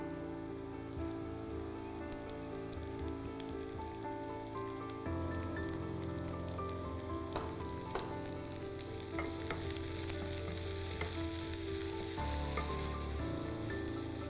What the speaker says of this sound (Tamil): நம்ம எண்ணெய் சூடாக இருக்கும் போதே வந்து பச்சை மிளகாயும் இஞ்சியும் ஆட் பண்ணிட்டோம்